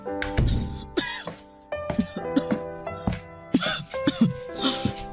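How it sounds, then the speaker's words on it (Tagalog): A woman coughs repeatedly in harsh, hacking bursts with throat clearing in between, close and loud, the fits coming in uneven clusters separated by short pauses. "ang tindi ng ubo niyo"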